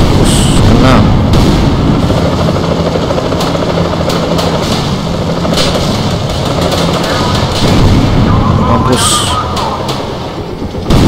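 Gunfire and an explosion in GTA San Andreas, a loud, dense burst of game action with rumbling engine-like noise throughout, while someone talks over it excitedly.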